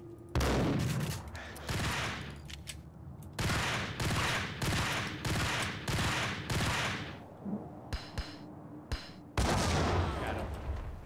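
Max Payne gunfire rings out as a long run of loud, sharp, close shots, firing in quick clusters with short pauses between them.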